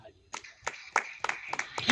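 A church congregation at a sermon claps in distinct, evenly spaced beats roughly every third of a second, fairly quiet and set against a hushed room.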